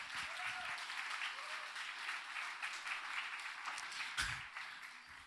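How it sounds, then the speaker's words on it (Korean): Steady applause from an audience at a church youth worship service fills the clip, a dense wash of clapping at moderate distance with no voices standing out. "박수 한번 할까요?"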